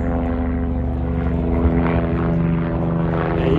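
A helicopter passes close overhead, a steady, droning engine with a throbbing rotor hum filling the air, loud and continuous.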